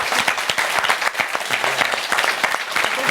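Audience applauding university students who represented the University of Cork, a dense, steady burst of clapping throughout with a few voices mixed in.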